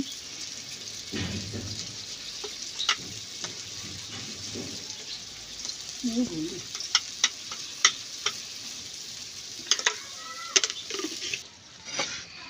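Greens fry in a pan with a steady, soft sizzle, punctuated by sharp clicks and taps of stirring that grow more frequent toward the end.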